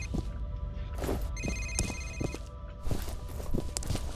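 A telephone rings in the video game F.E.A.R., an electronic trill repeating in short bursts over a busy bed of footsteps and clatter in a quiet interior.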